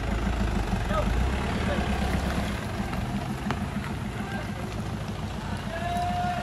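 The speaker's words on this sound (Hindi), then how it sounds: "गाड़ी निकालते हुए" A four-wheel-drive Gypsy jeep engine rumbles steadily while off-roading on a muddy trail, a continuous low droning under the background.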